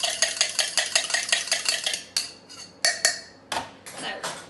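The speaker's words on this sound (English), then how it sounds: "I'm going to give it a stir with my handy fork or bar spoon" A fork or bar spoon stirs a drink with vanilla essence and sugar, giving a quick run of bright metallic clinks against the glass, evenly paced at first, then a few separate louder taps, up close with no talking.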